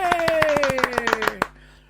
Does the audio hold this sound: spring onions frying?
no